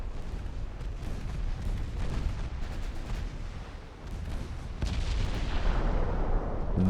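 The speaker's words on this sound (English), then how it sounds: "Strasbourg is firing away" The French warship Strasbourg fires its guns during a naval battle in a video game. Heavy booms and rumbling artillery blasts arrive in a dense, continuous barrage, with a louder surge near the end.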